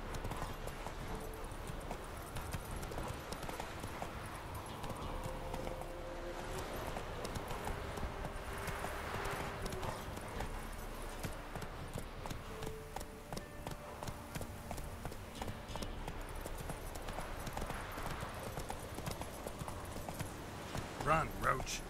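Roach, a horse in The Witcher 3, galloping with steady rhythmic hoofbeats, moderately loud and continuous over game ambience, while a voice talks over it.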